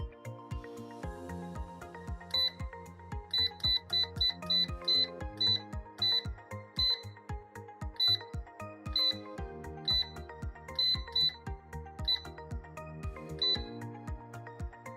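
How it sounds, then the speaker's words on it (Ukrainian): Short high-pitched electronic beeps from a PH PRO inverter repeat at irregular intervals over a steady low electrical hum and rhythmic clicking. "якщо вас дратує оцей пискливий звук, ви можете його вимкнути"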